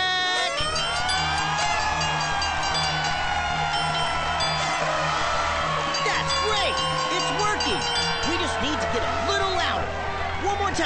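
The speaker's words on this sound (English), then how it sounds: "everybody will all cheer and clap our hands as loud as we can" Children at a Chuck E. Cheese birthday show in Hicksville, New York cheer and shout loudly in a sustained crowd roar, with overlapping high voices filling the whole stretch and little distinct clapping.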